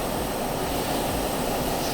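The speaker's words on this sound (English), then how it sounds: "We're in a cargo plane" A cargo plane's engines drone in the Stormworks video game, a loud, steady, broadband roar that fills the cabin without a break, with no talking.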